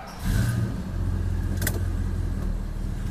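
A 1969 Dodge Super Bee driving, a steady low engine rumble heard from inside the car, close and continuous, with a brief higher noise partway through.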